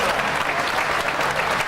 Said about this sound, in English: Big round of applause for Ginger.